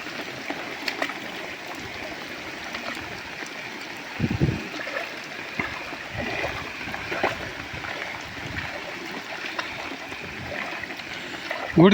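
Water from a pipe flows and trickles steadily in the background, with occasional knocks and clatters, and a faint voice in the mix.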